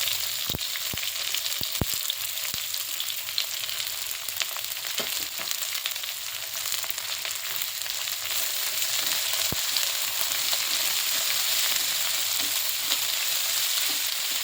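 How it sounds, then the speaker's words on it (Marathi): Sliced onion fries with garlic and ginger in a pan for a coconut curry base, making a steady, loud, close sizzle with occasional sharp crackles and no talking. "लसूण आणि आलं थोडं भाजल्यावर त्यात हा कांदा टाकून घेते"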